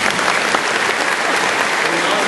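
Crowd applause at a high school commencement ceremony, loud and continuous clapping from a large audience filling the short stretch, with no voices on top.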